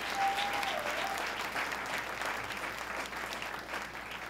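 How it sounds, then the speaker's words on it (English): An audience at a state government announcement about a Women's Building bursts into steady, sustained applause, a dense wash of clapping that holds at an even level for several seconds with no talking over it. "Let's give them all a round of applause."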